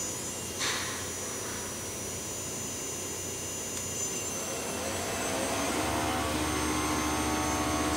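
A 2004 Clausing Metosa 17 x 60 inch CNC flat bed turning center runs at low speed in low gear, giving a steady mechanical whine and hum that swells slightly toward the end, with no voices.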